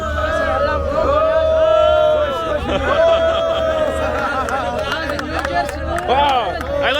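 A gathered crowd in Egypt's New Administrative Capital chatters and calls out in a dense, close babble, with overlapping voices, exclamations and occasional laughter rising and falling throughout.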